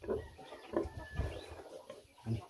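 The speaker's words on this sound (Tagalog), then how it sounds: "Pauwi na yung ibang alagang manok" Pet chickens heading home into a fenced yard cluck in short, spaced bursts close by, with faint rustling between calls and no talk.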